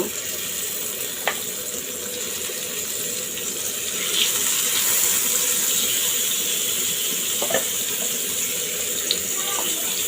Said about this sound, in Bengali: ছোট রুই মাছ আমি খুব সুন্দর করে হলুদ লবণ এবং মরিচের গুঁড়ো দিয়ে মেখে রেখেছি তাকে এখন আমি ভাজবো